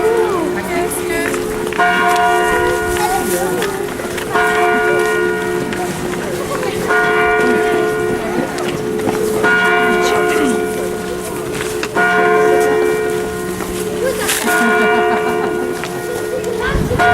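A church bell at Hampton Court Palace rings out loud and close, its clangs repeating in regular bursts about every two and a half seconds over a continuous humming drone, with faint talk in the background.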